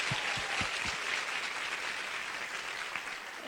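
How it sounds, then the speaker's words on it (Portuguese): Audience applause at a 2023 parenting congress, a steady broadband wash of clapping filling the room at even loudness from start to finish, with a few low thumps near the beginning. "Palmas para esses homens."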